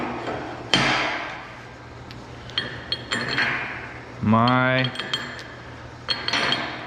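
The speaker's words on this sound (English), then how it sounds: "it was punching holes in this 3/8 steel in less than 30 seconds" Sharp metallic clanks and clinks ring out over a steady machine hum, with a brief grinding burst partway through as a punch works through 3/8-inch steel plate.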